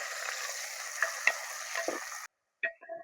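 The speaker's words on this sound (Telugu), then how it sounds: "కొద్దిగా హీట్ ఎక్కిన ఆయిల్‌లో అండి ఎండ్రాయిలు" Dried shrimp hit hot oil and fry with a close, steady sizzle, with a few soft stirring clicks, before the sizzle cuts off and brief clatters follow.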